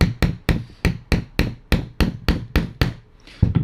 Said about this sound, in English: I'm gonna hammer this punch and knock that roll pin through